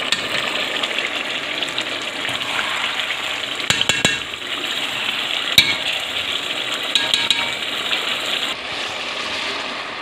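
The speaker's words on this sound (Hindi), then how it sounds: "तो इसके अंदर हम पानी डालते हैं" Water poured into chicken curry masala frying in a pan, a steady loud sizzle and gush with a few sharp clinks of a spoon stirring, close up and without talking.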